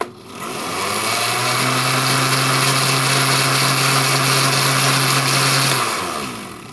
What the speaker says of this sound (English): And now we're just going to blend it.